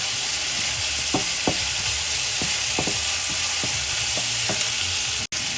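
An aromatic mixture for Hainanese chicken rice sizzles steadily in a pan while a utensil scrapes through it every second or so, all up close and with no voices.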